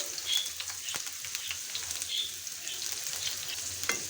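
Chopped onions sizzle steadily in hot soybean oil for a Bangladeshi pangas fish bhuna, a close, continuous frying hiss broken by a few soft stirring knocks.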